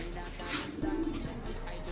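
A soft pigeon coo sounds briefly over a faint background hum, quiet and somewhat distant, inside a pigeon loft.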